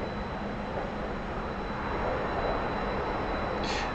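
A T-45 jet engine at full throttle in the DCS flight simulator gives off a steady, loud, broadband roar that holds constant and swells slightly near the end, with no talking.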